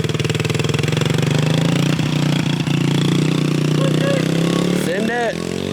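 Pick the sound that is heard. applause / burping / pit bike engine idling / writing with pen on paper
pit bike engine idling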